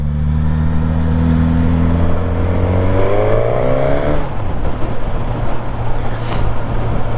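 A Suzuki GSX-S1000 motorcycle engine, 2025 model, revs up loudly and close, its rising harmonic tone climbing steadily for several seconds before settling into a rougher, steady roar with no talk over it.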